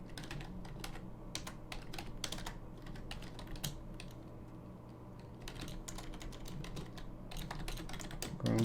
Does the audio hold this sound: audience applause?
no